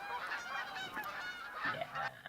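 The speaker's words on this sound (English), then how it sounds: "geese flying over top, so I decided to shoot at one of the geese" Flock of geese honking as they fly overhead in TheHunter: Call of the Wild, a steady chorus of overlapping nasal calls, fairly close and continuous with no talk.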